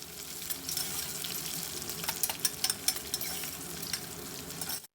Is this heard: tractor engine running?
no